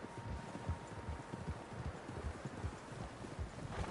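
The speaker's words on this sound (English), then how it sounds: "Horses, quite a few of them." Horses galloping in the Red Dead Redemption 2 video game, a quick rhythmic clip-clop of hooves repeating steadily under faint rustling, moderately close.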